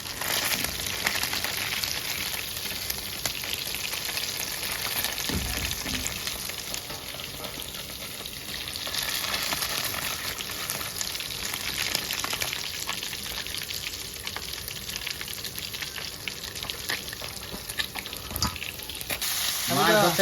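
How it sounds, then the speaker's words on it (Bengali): Fish fries in a pan in an outdoor riverside kitchen, giving a continuous, even sizzle that holds steady and close for the whole stretch, with a few faint knocks near the end. "এই যে মাছ ভাজতেছি"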